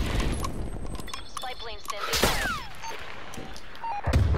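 Scattered gunfire from the video game Call of Duty Black Ops Cold War, a few sharp shots and impacts mixed with game effects and a voice talking over them.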